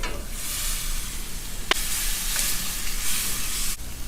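Steady loud sizzling and bubbling of pork hitting a boiling sauce, with a couple of sharp clinks of a utensil against the pan.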